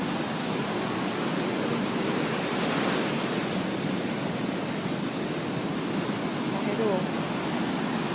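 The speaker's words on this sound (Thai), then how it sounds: "คือไม่รู้ว่าที่หาดเนี้ย มันเป็น คลื่นสูงแบบนี้ประจำหรือเปล่า" High waves break on Surin Beach in Thailand after morning rain, a loud unbroken roar of heavy surf that fills the whole clip at close range.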